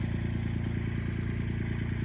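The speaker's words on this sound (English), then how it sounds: "Got the tractor warming up." A Kubota L2501 tractor's diesel engine idles while warming up on open land, close and steady. Its regular, rapid chugging pulses continue throughout with no talking.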